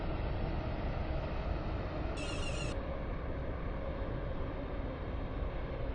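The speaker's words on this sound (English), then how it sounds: "The train now approaching Platform 1 terminates here." A train pulls into a station in the Roblox game Stepford County Railway: a steady, unbroken rumble of rolling carriages, even in level and moderately quiet, with no voices.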